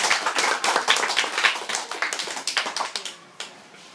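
Audience applause at a high school debate, a dense burst of close clapping that thins out and fades toward the end.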